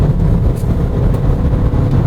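A BMW 2 Series Active Tourer under way in sport mode, its engine and road noise a steady, loud broadband rumble heard from inside the cabin with no one talking.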